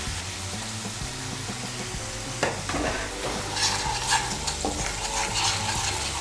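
Salt and turmeric are stirred into hot frying oil for stuffed potol bhaja, with a soft sizzle and a few scraping utensil strokes against the pan over quiet background music.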